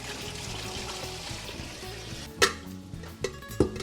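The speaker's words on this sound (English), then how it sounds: "We're just gonna clean this a little bit now with water to remove a little bit of the starch." Sliced potatoes for a Spanish tortilla are rinsed under water to wash off starch. There is a soft, continuous wash of water over a low kitchen hum, broken by a few sharp splashes and knocks.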